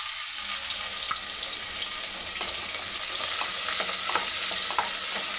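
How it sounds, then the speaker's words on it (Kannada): Sliced onion fries in hot oil in a pan, giving a steady loud sizzle with occasional stirring scrapes and clinks. "ಈರುಳ್ಳಿಯನ್ನು 2 ನಿಮಿಷ ಚೆನ್ನಾಗಿ ನಾನು ಎಣ್ಣೆಯಲ್ಲಿ ಹುರ್ಕೊಂಡಿದ್ದೀನಿ."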